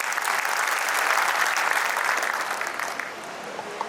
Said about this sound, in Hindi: एक बार फिर से जोरदार तालियों के साथ हम आभार प्रकट करते हैं